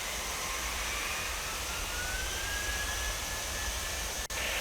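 Jet airliner taking off in the Tower! Simulator 3 game: a steady, loud engine roar with a slowly rising whine, continuous throughout with no talk.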